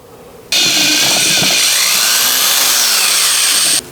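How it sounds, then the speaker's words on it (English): A power drill with a small bit boring a pilot hole into a portable generator's handle, a loud continuous whine that starts abruptly and holds steady for about three seconds before cutting off, heard alone up close. "I want to drill 14 millimeter hole here"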